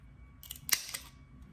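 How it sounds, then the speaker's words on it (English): Scissors snip a sliver off a leaf for a kids' craft necklace. Close, crisp blade clicks come in a quick cluster of two or three cuts within a second, then quiet. "You can use scissors as well to kind of cut a sliver off of."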